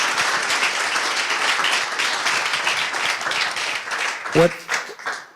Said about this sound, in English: Let's give Chrys a big round of applause.